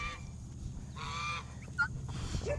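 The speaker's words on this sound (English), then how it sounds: "I've got guineas around me." Guinea fowl call nearby in a few short, harsh, honking cries over a low background rumble, fairly faint and brief.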